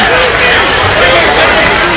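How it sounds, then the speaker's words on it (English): A college basketball arena crowd at an ACC tournament game, UNC against Virginia, keeps up a dense, loud, steady rumble of murmuring and cheering with no break. "the crowd is still rumbling about that one"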